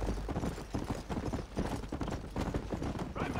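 Horse hooves galloping in the Red Dead Redemption video game, a steady rapid clip-clop rhythm that runs throughout, close and fairly loud, with faint game background noise.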